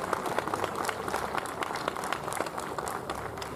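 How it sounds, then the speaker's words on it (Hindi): A live crowd at a Holi comedy show in Dhanbad featuring comedian Raju Srivastava claps loudly, dense irregular applause filling the room with a few sharper individual claps standing out. "एक बार जोर तालियां अपने लिए बजा लीजिए"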